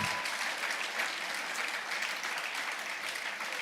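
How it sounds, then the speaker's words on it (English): Sustained, warm round of applause from a conference audience at a bank's capital markets day, dense steady clapping filling the room with no voices over it. "applause"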